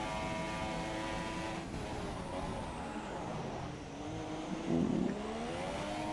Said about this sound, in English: Got a button really revving that engine out now